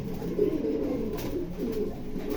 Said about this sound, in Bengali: এগারো পিস কবুতর মাত্র ছয় হাজার টাকা